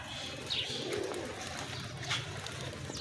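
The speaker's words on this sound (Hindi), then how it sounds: "ये कबूतर उड़ा रहा अब्दुल रहमान यहाँ से" Soft pigeon coos and faint chirps drift in over a quiet outdoor background, a couple of brief calls standing out.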